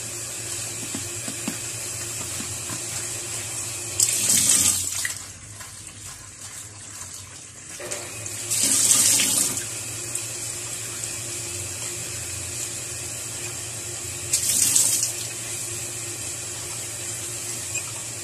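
A faucet gushes in three short bursts, each a few seconds long, with quieter background noise and faint clinking in between.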